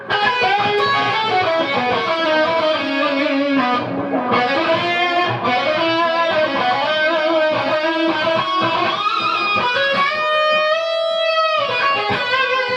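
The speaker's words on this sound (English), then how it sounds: "The tone of this guitar is particularly heavy. It's got quite a metal, grunty tone" A heavy, metal-style distorted electric guitar plays a continuous sustained lead line with a thick grunty tone, loud and upfront for the whole stretch, with no talking.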